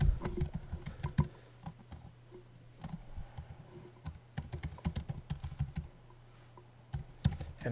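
Quiet keystrokes on a computer keyboard as an email address is entered on a Google sign-in page, bursts of rapid clicks separated by short pauses, close but soft with no voices.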